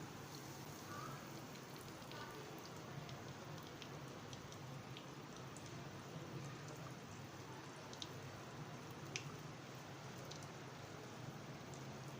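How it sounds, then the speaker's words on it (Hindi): Chicken pieces frying in hot oil over medium heat, for a zinger-style burger, give a steady, even sizzle with fine crackling throughout, fairly quiet and unbroken, with no voices. "चिकन हमारा फ्राई हो रहा है"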